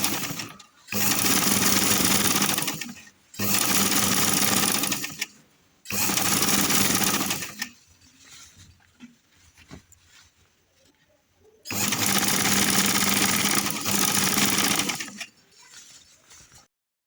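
A sewing machine stitches uniform trouser fabric in four separate bursts of fast, steady, loud whirring chatter, with short near-silent pauses between runs and a longer quiet gap before the final burst.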